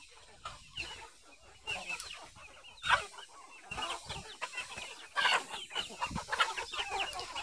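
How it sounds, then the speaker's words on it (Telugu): A flock of village country chickens clucking nearby outdoors, overlapping bursts of calls rising and falling in irregular rhythm, fairly close and lively, with no speech. "ఇవన్నీ నాటుకోళ్ళే"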